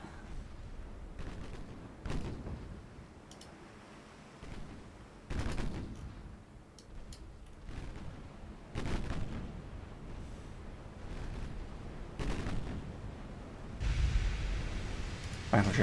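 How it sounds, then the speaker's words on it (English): Battleship main guns fire in a naval strategy game, several deep booming blasts spaced a few seconds apart over a low rumbling background, with a heavier burst at the end. "Battleship firing at us."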